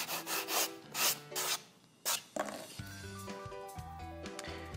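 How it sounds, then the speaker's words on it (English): A metal blade bevel for a homemade Sting sword is sanded by hand in a series of close, rhythmic rasping strokes, a few strong passes then lighter scrubbing mixed with tonal scraping ring. "To make a cleaner bevel, I sanded it down."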